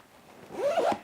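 The zipper on an Aer Day Sling 3 Max X-Pac bag is pulled once in a quick, close, raspy zip lasting about half a second, with quiet surroundings.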